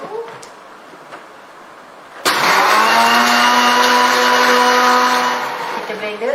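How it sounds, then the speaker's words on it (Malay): A blender whirs loudly and steadily as it grinds eggshells with a glass of milk, switching on sharply after a quieter stretch and running on at full power until it begins to ease off near the end. "kita blender sampai dia dah lumat"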